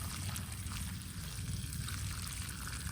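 Soapy water poured steadily down into a yellow jacket nest cavity in the ground, a continuous splashing gurgle, close and moderately loud, with no talking.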